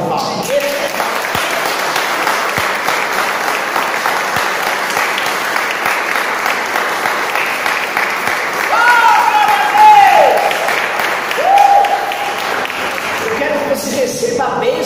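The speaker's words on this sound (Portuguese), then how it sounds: "e Ele merece uma salva de palmas." A church congregation at an evangelical service claps in a long, full round of applause filling the room, with a few cheers or voices rising near the end as it carries on steadily.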